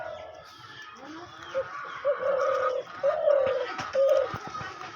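Tame hunting doves kept on the ground coo close by in soft, repeated hooting calls, a few distinct phrases spaced over a quiet background.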